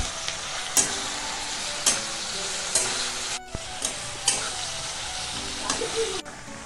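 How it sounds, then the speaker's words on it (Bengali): Salted onions frying in oil to make crisp birista for biryani: an even, bright sizzle with regular scrapes of a spatula roughly once a second, nearby and without speech. "এবার পেঁয়াজটা ভাজা স্টার্ট হয়েছে"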